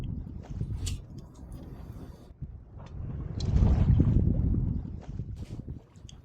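A Genoa sail on a sailboat flaps loudly in the wind, a continuous rumbling flutter with rushing wind noise that swells to a peak midway before easing.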